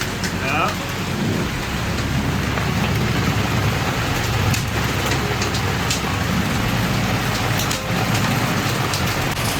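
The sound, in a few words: hail bouncing onto a sailboat in a storm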